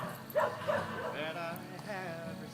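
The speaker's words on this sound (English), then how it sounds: "She's a good dog." Sophie the dog gives a few short yips and whimpering barks, close by, mixed with a person talking.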